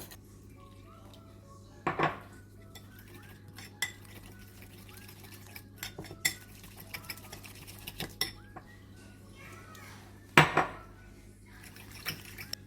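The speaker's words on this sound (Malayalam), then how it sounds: "ഇതെല്ലാം കൂടി നന്നായിട്ട് മിക്സ് ചെയ്യാം." Chicken pieces being mixed with chilli powder and ginger garlic paste in a bowl, giving a few scattered clinks and scrapes of a spoon against the dish over a quiet background, with two louder knocks standing out.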